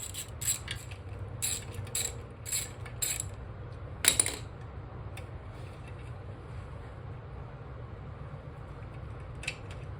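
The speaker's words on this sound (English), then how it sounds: "To make the job easier, I'm just going to use an extension and aid with loosening it up." Ratchet on an extension loosening flywheel bolts on a 4AC engine, a few sharp metallic clicking bursts up close, then a quieter stretch with low background hum.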